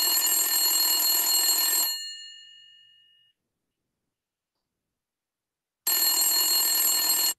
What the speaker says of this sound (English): You receive a phone call.